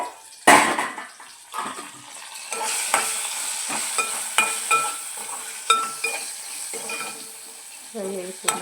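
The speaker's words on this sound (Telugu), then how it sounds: "ఫ్రై అవుతున్నాయి." Drumsticks and tomato curry frying in a pan, with a continuous light sizzle punctuated by repeated stirring scrapes and clinks of a spoon against the pan, close up.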